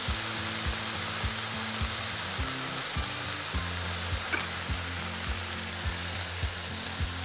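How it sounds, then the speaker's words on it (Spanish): Chicken frying in a pan while being stirred, a steady loud sizzle with a faint rhythmic pulsing underneath, continuous throughout. "Se continúa removiendo."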